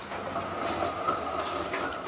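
A tram on Basel's old city network rolling to a halt, with a steady rumble of wheels on rails and faint clicks, fairly close and continuous throughout.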